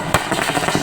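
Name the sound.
fireworks set off by celebrating party workers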